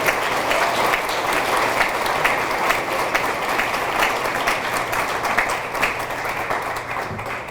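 An audience at a high school athletic Hall of Fame ceremony applauds an inductee with sustained, loud clapping from many hands, steady throughout with faint background murmur.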